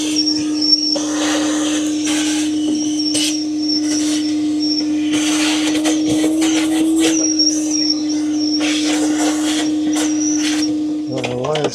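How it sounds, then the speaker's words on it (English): A dust extractor drones steadily throughout at a close, loud level, with a sustained whine over it that cuts in and out as the machine cycles, and a brief change near the end. "You'll hear the dust extractor make some noise down there. That's just it cycling on and off."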